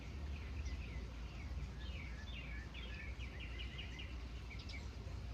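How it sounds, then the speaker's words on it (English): Birds sing outdoors during a yoga session, a faint run of quick high chirps and twitters over a low steady background hum. "as I hear the birds sing"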